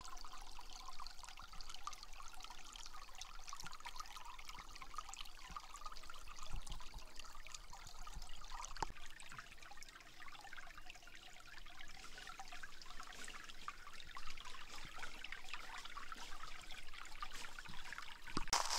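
A small stream trickles and babbles close by, with fine detail in the water. The gentle, continuous flow is fairly quiet, sprinkled with small splashes and gurgles, and no one talks.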